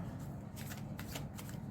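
Tarot cards being shuffled by hand, a steady run of soft papery riffles and slides at close range, fairly quiet with a low background hum and no talking.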